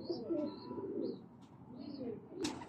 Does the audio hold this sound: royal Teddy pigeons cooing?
yes